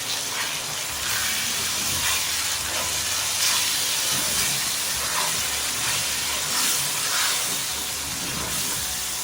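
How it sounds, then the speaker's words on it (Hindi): Red chili powder, roasted crushed coriander and kasuri methi frying in a pan for a chicken masala, a steady broad hiss and sizzle that stays even and close throughout with no talk. "red chilli powder, roasted and crushed coriander और कसूरी मेथी, ये भी साथ ही चली जाएगी और इसे मैं अच्छी तरह फ्राई करूँगी"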